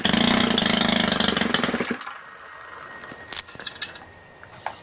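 A Stihl combi unit's small engine runs without choke on a cold day, loud and rough for about two seconds before dropping off, leaving faint sputters and sharp ticks.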